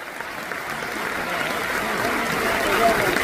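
Audience applause at an RCM gathering, a dense steady wash of clapping that swells slightly toward the end, fairly close and without talk over it.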